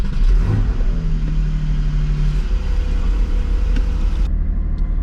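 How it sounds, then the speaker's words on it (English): A Ferrari F40 engine cranks and fires up, then settles into a loud, rough, steady idle and rumble, with a brief sustained drone early on and no talk. "let's start the engine"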